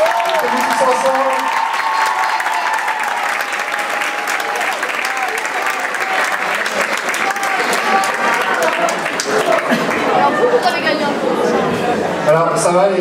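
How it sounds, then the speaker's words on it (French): Loud, dense applause from an audience at a school math conference closing ceremony, steady clapping filling the hall for its whole length with chatter and a few voices mixed in. "Alors, on les applaudit bien fort."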